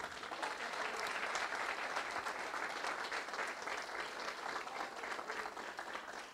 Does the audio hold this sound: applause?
yes